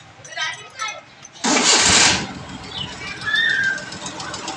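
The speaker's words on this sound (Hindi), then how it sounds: "अब मैं गाड़ी को स्टार्ट करता हूँ।" A 1983 Suzuki FX car engine cranks and catches in a loud, close burst lasting under a second, then settles into a quieter steady running hum; someone talks briefly beforehand.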